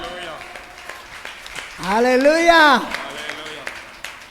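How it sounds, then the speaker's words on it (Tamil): A congregation at a Tamil Sunday church service claps hands in a steady, evenly spaced rhythm, while a voice rises over the clapping and calls out briefly in the middle. "கைதட்டுமா எல்லாரும்?"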